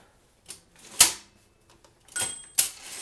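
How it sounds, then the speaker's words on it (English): An old manual typewriter rings its margin bell and throws its carriage return, giving a few sharp metallic clacks and a bright ding in a quiet room with no talking. "The bell still works."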